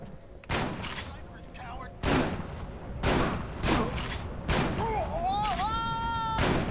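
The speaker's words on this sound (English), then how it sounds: "Now it's time for the shooting part of the stage." Gunfire in the video game Manhunt 2: several sharp, loud shots spaced a second or so apart, with a whining tone near the end, heard alone.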